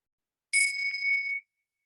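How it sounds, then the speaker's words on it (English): A single bright meditation bell strike rings out clearly, its pure tone lingering for about a second before fading away into silence. "we hear the sound of the bell fade."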